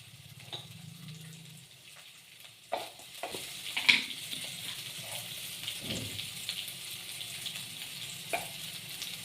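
Poha upma cooking in a pan, with a low sizzle and a few scraping, stirring strokes of a spoon, fairly quiet and close, without talk.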